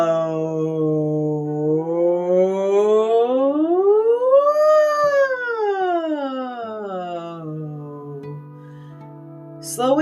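A voice glides smoothly up to a high pitch and back down in one long siren-like sweep, imitating a siren, loud and close.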